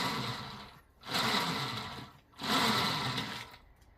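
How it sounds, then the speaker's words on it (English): Mini bike rear tire spun hard by hand with the chain running, a close whirring mechanical rush in two bursts that rise quickly and slowly die away, separated by a short lull. "I come over here and I aggressively spin the rear tire"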